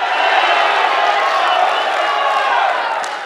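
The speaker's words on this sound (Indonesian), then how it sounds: "Boleh diberikan tepuk tangan yang meriah?" A debate audience for local regional candidates breaks into loud, sustained applause mixed with crowd cheering, a steady dense roar that eases off near the end.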